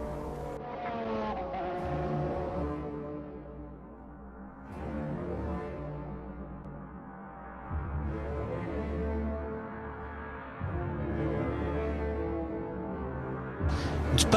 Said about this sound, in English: There's Prost on his last lap, heading for victory in the French Grand Prix from pole position